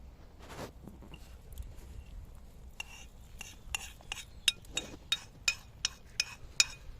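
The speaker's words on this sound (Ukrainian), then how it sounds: "Треба розмішати і тихенько виливати, перемішую." A spoon stirs porridge in a pot while eggs are slowly poured in, giving soft scraping and then a run of regular metallic clinks against the pot, quiet and close with no talk.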